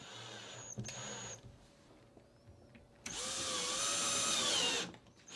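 Power drill driving screws to fasten backer boards around the edges of a wallboard opening during a drywall patch repair, heard as a short whir early on and then a longer, steady, close-up whine lasting about two seconds.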